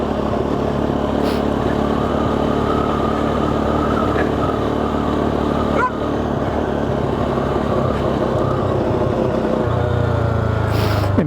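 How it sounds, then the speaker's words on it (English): KTM 390 Duke motorcycle engine idling with a surging fault, heard up close as a steady rough idle that rises and dips unevenly, with a few faint clicks and no talking. "In fact, that amount of surging feels downright dangerous."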